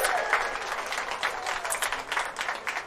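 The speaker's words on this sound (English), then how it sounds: "Give a round of applause." A crowd at a Hollywood Walk of Fame star ceremony applauds steadily, a dense wash of clapping that runs throughout without a break.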